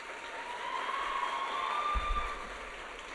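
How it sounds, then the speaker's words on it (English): Audience applause welcomes the dancer Pranathi Kolluru onto the stage at her arangetram dance debut: a steady, dense wash of clapping that holds for about three seconds without voices. "With a huge round of applause, please join me in welcoming Pranathi Kolluru onto the stage."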